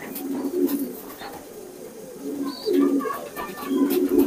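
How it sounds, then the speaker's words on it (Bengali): A high-flying pigeon coos in low, rounded repeated phrases, close and clear, with faint outdoor background between calls. "আমার ওস্তাদের পুরনো কবুতর তাসি 88"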